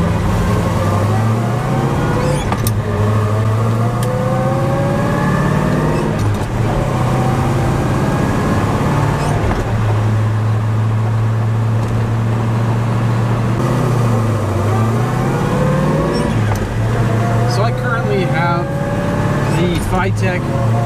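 A car with a FiTech EFI-8 1200 hp fuel injection system cruises on the road, its engine droning low and rising and falling with throttle changes. Someone talks over it almost continuously.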